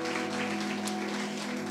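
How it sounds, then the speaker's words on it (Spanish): A congregation at a Catholic preaching service applauds in a brief, steady wash of clapping, blended with a constant low tonal hum in the room. "Le damos un fuerte aplauso al Señor"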